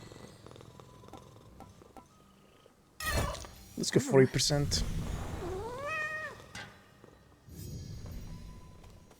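A cat purrs and meows amid other game sounds in Hades II, with someone talking over it; the meows come in a short rising burst midway, and a low purring rumble runs underneath.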